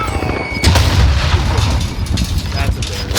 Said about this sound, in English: Oh, that's a Throwing grenade.